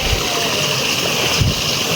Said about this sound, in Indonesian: di sungai kecil atau solokan ya tuh airnya sangat deras ya teman-teman